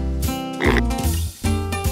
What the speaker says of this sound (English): This is a pig. A pig says, oink,